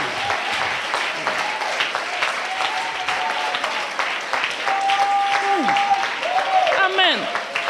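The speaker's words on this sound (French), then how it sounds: "C'est tout ça que tu applaudis, c'est tout ça." Sustained church congregation applause in a worship service, a loud continuous crowd of claps with voices calling out over it and a few sung or shouted tones.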